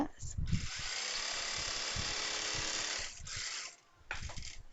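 A sewing machine runs a steady stitching burst on an XXL chudithar pant, adding a double seam about half an inch in; the whir holds for about three seconds, pauses briefly, then resumes, with someone talking over it.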